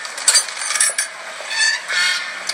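Geese on a community farm give a few scattered, fairly faint honks and squawks against a quiet backdrop.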